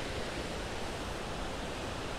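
A large river rushes along below a stone-lined bank near Dharan, a steady broadband roar of flowing water that stays even and continuous throughout with no breaks.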